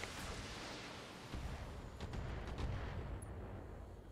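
Mech weapons firing at an enemy Griffin in the game Battletech, heavy rumbling blasts and booms rolling together at a steady loud level.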